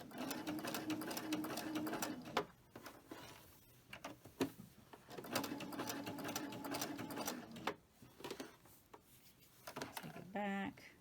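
Sewing machine stitching with a double needle in rapid whirring bursts that stop and restart several times, ending with a short mechanical clatter. A voice is heard faintly between runs.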